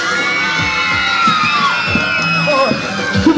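Guests of the bride's side at a Roma wedding in Ömerli cheer and whoop loudly together over music, a dense, close burst of shouting and yelling.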